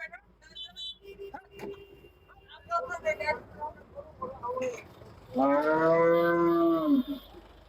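At a busy cattle market in Hazratpur, Bangladesh, where a pair of cows has just been sold, a cow gives a long, loud moo toward the end amid crowd chatter and voices, with a dog barking faintly.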